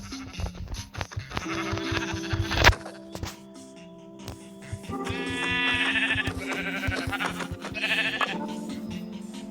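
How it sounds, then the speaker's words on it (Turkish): Sheep bleating in Minecraft, several short cries over a busy game soundtrack of music and effects, fairly close and moderately loud. "Orada bir koyun daha var."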